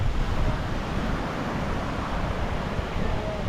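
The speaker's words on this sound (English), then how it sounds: "Right now we are head down to the beach side, you know. White sand beach." Surf rolling onto a white sand beach in Portland, Jamaica, a dense continuous roar of waves mixed with wind buffeting, loud and close, with no talk.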